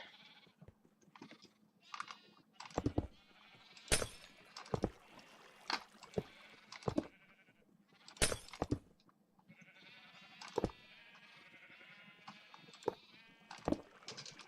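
Blocky sheep in a Minecraft-style game bleating in short separate bursts spaced a second or two apart, some overlapping, over a faint steady background hum.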